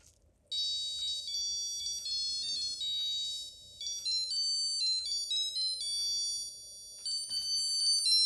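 A 1982 Casio digital watch alarm beeps out a high, thin electronic melody, repeating in short phrases with brief pauses, close and clear.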